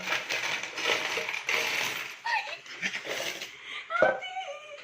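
Coins counted and dropped on Christmas, with clustered metallic clinks and jingles in a busy jumble, close up, while voices and light laughter mingle in the background.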